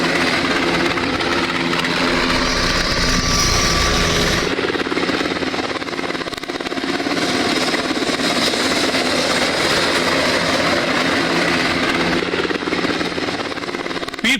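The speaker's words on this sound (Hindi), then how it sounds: "हेलीकॉप्टर पीर पंजाल के पहाड़ों के ऊपर चक्कर लगा रहा है," Search helicopter circling over the Pir Panjal mountains: a loud, steady, continuous rotor and engine roar that dominates the scene throughout, with a slight shift in tone partway through.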